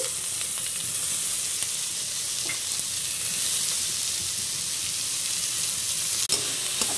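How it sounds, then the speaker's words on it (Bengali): Chopped onion frying in hot oil with dried red chili and bay leaf, a steady close sizzle throughout with occasional faint stirring clicks and one sharp utensil knock near the end. "এটা একটু ভেজে নেব। পেঁয়াজ কুচিটা দিয়ে দিচ্ছি।"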